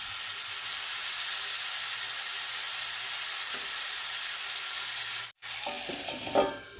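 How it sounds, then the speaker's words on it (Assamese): Mango pieces with turmeric and salt sizzle in a pan in a steady, quiet hiss, followed near the end by a brief knock and a few faint scraping stirs. "আমখিনি ভাজি থাকোঁতে অলপমান ঢিলা ঢিলা হ'বই বাৰু"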